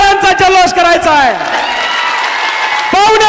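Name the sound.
crowd applauding and cheering at a rally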